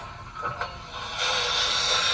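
A few soft metallic clicks and clanks of an LGB 2180 model locomotive's coupling sound, then a rising hiss of air that holds steady, over a low rumble with no talking.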